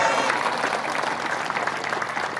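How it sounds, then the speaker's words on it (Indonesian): Crowd applause at a speech event, a dense wash of clapping held steady for a couple of seconds, moderately loud with the room's voices faintly mixed in. "Tepuk tangan."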